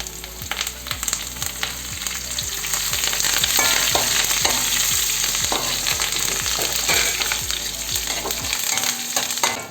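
Dried red chillies and curry leaves sizzle steadily in hot oil for rambutan pickle, a loud continuous crackling broken by regular scraping stirs, with no voices.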